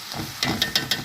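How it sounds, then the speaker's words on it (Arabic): Food frying in a pan before tomato goes in, a soft steady sizzle with a few quick scraping stirs spaced evenly across a brief moment. "خليه يتقلى شوية"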